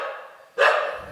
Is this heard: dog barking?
yes